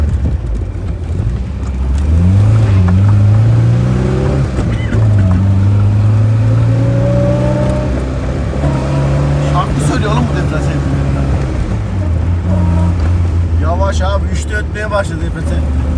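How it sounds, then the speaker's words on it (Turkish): A modified Tofaş Şahin car with a whining differential drives along. The engine hum carries tonal whines that rise and fall in pitch as it gathers speed, and people talk over the noise throughout. "diferansiyel çok ötüyor"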